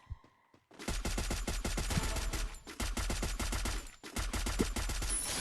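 Rapid automatic gunfire rattles in a Free Fire match, with long, loud, close bursts of evenly spaced shots broken by short pauses and a brief quiet start.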